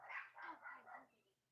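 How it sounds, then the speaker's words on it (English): Dogs barking at a front door while a delivery driver waits outside, a quick run of four sharp, fairly distant barks followed by a faint whimper, heard alone without talking. "Yeah, sorry about the dogs."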